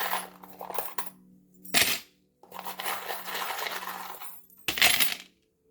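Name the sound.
charms being tossed for a divination reading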